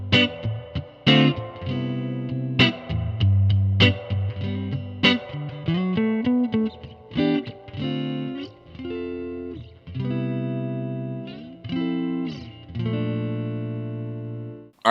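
Electric guitar played through an amp turned up to around 15 watts, with distorted chords and single notes ringing out in uneven phrases, loud and close.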